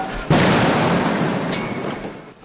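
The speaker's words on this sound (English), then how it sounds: "as the gunfire and the explosions became more frequent" Gunfire and explosions during street clashes in Bangkok: a sudden loud blast followed by a sustained rumbling roar, with a sharp crack partway through, dense and close.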